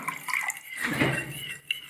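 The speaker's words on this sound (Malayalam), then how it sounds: "ഇനി നമുക്ക് ഇതിലേക്ക് കുറച്ച് വെള്ളം ഒഴിച്ചു കൊടുക്കാം" Water pours into gobi manchurian gravy in a home kitchen, a short, close trickling and splashing with small drips that fade near the end.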